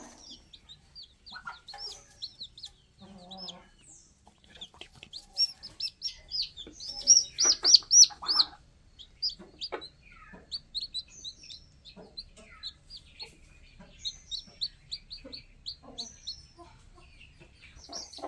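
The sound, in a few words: chicks and hen chirping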